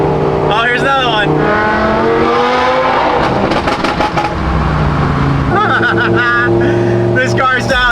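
Lamborghini sports car engine running loud and close, with a strong sustained roar and shifting harmonic pitch that rises and falls as it revs, continuous throughout.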